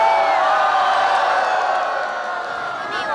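A large crowd packing the Lunar New Year flower fair at Victoria Park, Hong Kong, at night: a steady, close, bright wash of many voices and chatter, with no single speaker standing out.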